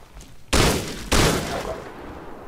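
Two heavy shotgun blasts fire about half a second apart in Fallout 3, each a sharp loud boom fading into a rumbling tail, with no talk over them.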